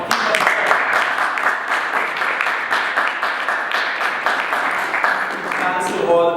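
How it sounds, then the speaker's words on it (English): Steady crowd applause following a graduate student talk, many hands clapping in a dense continuous wash that holds throughout before tapering at the end. "Keep the round of applause going."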